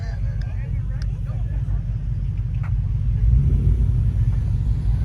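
A supercharged Nissan Y62 four-wheel drive works across beach sand at Beachport, its engine a steady low rumble that swells louder near the end, with no talk over it.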